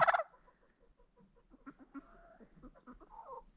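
A hen on a snowy farmstead, caught outside during a snowstorm, gives a loud burst of squawking at the start and then a run of softer, close clucks.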